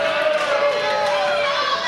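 A wrestling crowd at a Larry Sweeney versus Christopher Daniels match roars and cheers in a steady, dense wash of voices.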